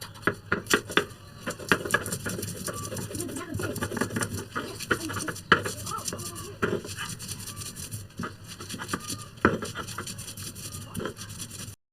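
Red lentils are ground with garlic, green chilies and onion for pumpkin-leaf fritter batter, making uneven rhythmic scraping and knocking strokes, while pigeons coo softly in the background.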